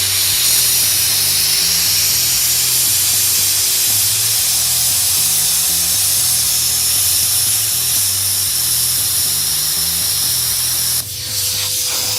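A Hypertherm plasma cutter set at 15 amps hisses loudly and steadily as it slices through 14 gauge thin sheet metal carrying a 3/16 bracket, a sustained harsh spray that cuts off abruptly near the end.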